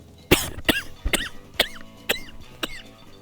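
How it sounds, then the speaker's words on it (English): Six sharp coughs ring out, evenly spaced about half a second apart, close to the microphone and fairly loud, with no talk over them, during a session of The Binding of Isaac: Afterbirth+. "Sorry, couldn't react to that cough in time."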